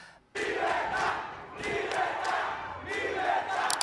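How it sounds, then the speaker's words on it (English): A large protest crowd in Havana, Cuba, shouts in rhythmic unison, with loud, close, repeated chanted bursts rising and falling over a constant roar of voices. "Libertad, the crowd in Havana shouts, or freedom"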